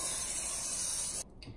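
Pam canola oil cooking spray hisses onto a cake pan for devil's food chocolate cake in one steady, close burst of about a second before cutting off abruptly.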